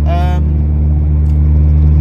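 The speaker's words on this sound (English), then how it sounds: "I don't know if you guys can hear the exhaust. It is quite loud" Loud, steady low exhaust drone from a moving Ford Fiesta ST fitted with an aftermarket exhaust mod, heard from inside the car with a voice briefly over it at the start.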